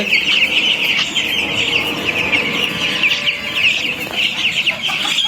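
Chickens and young chicks cluck and peep steadily in a wintry coop under electric light, with a thick, constant chorus of high chirping layered over soft clucks and no voices.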